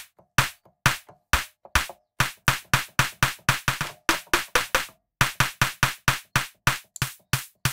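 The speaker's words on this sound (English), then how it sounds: "Electronic snare." Electronic snare from the Logic Pro for iPad Drum Synth, struck repeatedly in a quick, slightly uneven rhythm of short, bright, noisy hits, each with a brief decay, about thirty in all, with a short gap midway.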